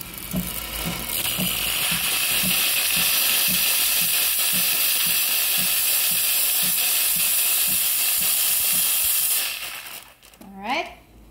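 Steam hissing from the pressure-release wand of a Gemilai 3609 espresso machine, a loud steady rush lasting about nine seconds with a faint rhythmic ticking beneath, then cutting off sharply, followed by a brief clatter.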